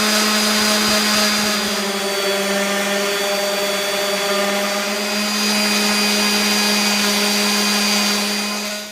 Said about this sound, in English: I'll sand the board down and get rid of this little feathery piece here